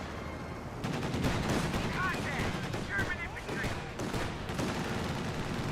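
An M15 half-track's machine guns fire in the Company of Heroes 2 video game amid a busy battle, with dense, continuous crackling gunfire and distant blasts layered throughout.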